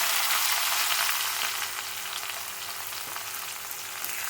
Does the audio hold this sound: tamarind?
yes